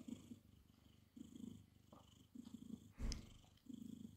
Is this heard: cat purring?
yes